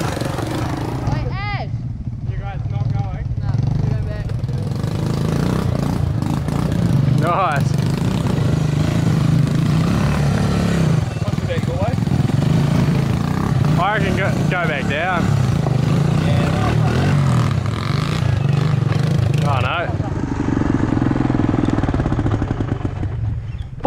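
On an off-road trail, a motorcycle engine runs steadily for the whole stretch, a constant rough drone close by with occasional clatter.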